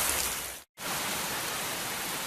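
Rain falls steadily with a dense, even hiss, broken by a sudden short gap of silence before it resumes at the same loudness, with no voices.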